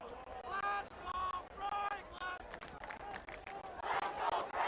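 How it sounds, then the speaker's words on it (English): A high school varsity football crowd, Franklin fans dressed in pink for Breast Cancer Awareness Month, cheers and shouts at a game against Taunton; a steady roar of many voices swells toward the end, with someone talking over it. "the pink out crowd in their pink for Breast Cancer Awareness Month, cheering, "Let's go Franklin.""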